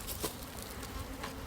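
A steady, dense drone of honeybees fills the air around an opened hive while a frame is pried loose with a hive tool. A couple of faint knocks cut briefly through the buzzing.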